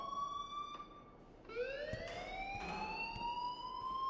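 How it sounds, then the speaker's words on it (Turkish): Alarm in the video game Life is Strange, a faint electronic siren-like tone that holds steady, then sweeps upward and continues rising, with a soft background hiss. "please turn off that alarm since that's your job"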